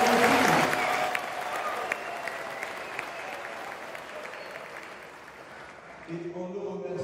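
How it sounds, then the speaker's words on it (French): A church congregation applauding warmly during a parish anniversary celebration, loud at first and then slowly thinning out, with a voice starting to speak near the end. "Je vous prie d'applaudir très fort."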